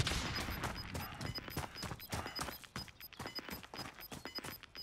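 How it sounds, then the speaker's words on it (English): Rapid, irregular bursts of gunfire and explosive impacts from enemies firing RPGs in Call of Duty Warzone, a dense clatter of sharp cracks and thuds at moderate distance. "Oh, they're shooting RPGs."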